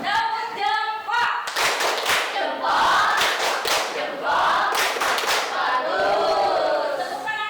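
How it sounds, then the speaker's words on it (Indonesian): Classroom pupils doing a patterned clapping chant, crisp rhythmic claps and thumps in clusters between energetic group shouts and sung lines, close and loud. "Tepuk jempol."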